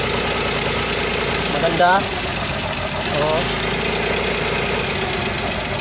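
Car engine idling with a fault in cylinder number 3, a steady mid-pitched running drone with slight unevenness, under a man's brief speech.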